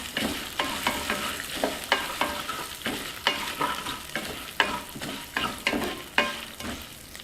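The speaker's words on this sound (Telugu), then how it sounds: "ఇందులోనే వెల్లుల్లిపాయ రెబ్బలు వేసేసుకుందాం అలాగే ఎండుమిర్చి కూడా వేసేసుకుందాం దీన్ని బాగా వేయించుకుందాం" Garlic cloves and dried red chillies fry in a pan, a constant crackling sizzle punctuated by regular stirring strokes roughly every half second, close and fairly loud.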